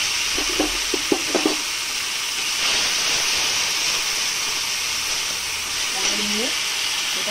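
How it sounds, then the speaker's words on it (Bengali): Garlic paste, onion, cumin paste, salt, turmeric and chili powder fry in a kadai with a steady, even sizzle and hiss, while a voice briefly cuts in near the start and again near the end. "সব মশলা ভালো করে আমাকে কষে নিতে হবে"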